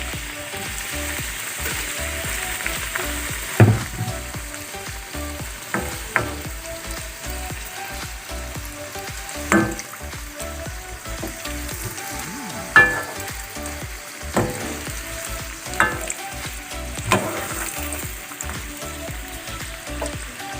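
Anarkali pieces deep-fry in hot refined oil in a kadai with a dense, steady bubbling sizzle. Occasional sharp utensil clicks sound over it, with no voices.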